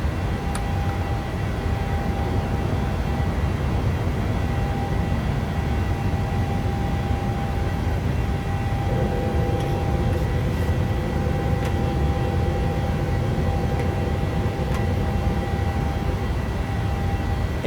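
A Boeing 737-700 in flight in a flight simulator game: a steady, broadband roar of jet engines fills the whole stretch, constant and even, with a faint tonal whine layered over it and no talking.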